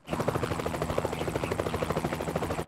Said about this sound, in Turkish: Bir helikopterdesin değil mi?